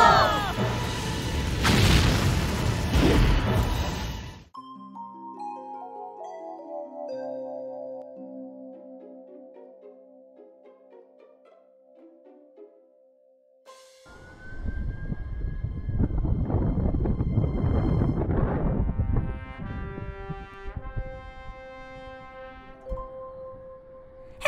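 A cartoon rocket blasts off into space with a loud, rumbling roar. Tonal musical notes and a rising whistle follow, then a second surge of rumbling thrust.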